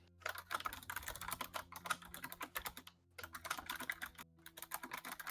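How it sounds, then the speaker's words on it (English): Rapid typing on a computer keyboard close to a microphone comes in quick irregular bursts of crisp clicks with short pauses between runs, faint and alone without voices. "Somebody was typing loudly into the mic."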